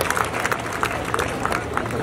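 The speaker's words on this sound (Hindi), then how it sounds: "जोरदार तालियां हो जाए" An audience at a school science exhibition claps and cheers, a dense crowd of applause with a voice speaking over the top.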